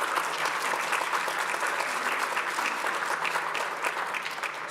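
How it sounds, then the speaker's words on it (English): Steady, full applause from a large audience at a 2023 honors ceremony, dense and sustained throughout with no break or talk. "let's give each of us a round of applause on that."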